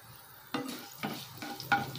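Oil fries in a pan while the drumstick and potato curry is stirred. A soft, steady sizzle is broken by a few scraping stirs of a spoon against the pan.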